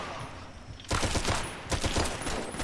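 Rapid bursts of gunfire from a gun in Fallout: New Vegas, two clusters of quick shots after a quieter start, loud and close with no talking.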